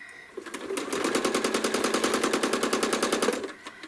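Home sewing machine stitching in the ditch on a ruler-quilted feather spine: a steady, rapid run of close mechanical stitch pulses lasting about three seconds, nearby and with no voices.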